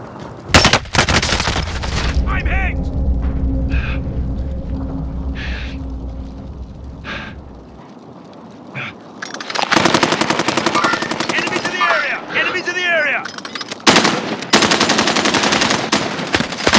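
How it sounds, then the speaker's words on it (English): Rapid bursts of automatic machine gun fire in a Call of Duty: Modern Warfare match, loud and close, with a quieter gap in the middle before heavy firing resumes, mixed with other game effects. "Taking fire!"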